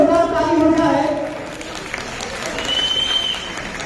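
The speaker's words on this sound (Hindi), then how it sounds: "एक बार जोरदार ताली हो जाए।" Applause from an audience at a school annual function, steady clapping heard under a voice speaking over a microphone, with a crowd murmuring throughout.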